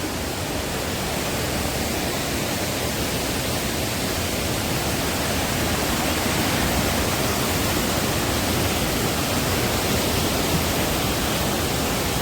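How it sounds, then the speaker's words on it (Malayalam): Mannira Waterfalls near Konni pour in a constant, dense roar of falling water that holds steady throughout, loud and unbroken with no voices. "ഇതാണ് വെള്ളച്ചാട്ടം."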